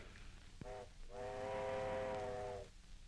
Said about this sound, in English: Why, he wouldn't be on that train, Sam.